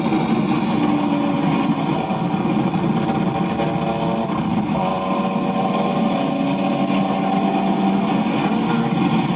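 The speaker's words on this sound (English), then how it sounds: "You can hear his exhaust." Exhaust note of a replica BMW M3 CSL fitted with M3 CSL parts, a steady loud engine drone holding throughout on crowded streets, with no talking.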